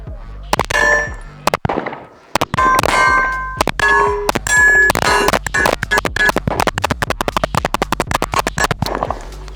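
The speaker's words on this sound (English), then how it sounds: "This is a 38 Super race gun." A 38 Super race gun fired at an outdoor range, with rapid strings of loud, sharp, concussive shots and metallic ringing, many in quick succession with brief pauses, close and dominating.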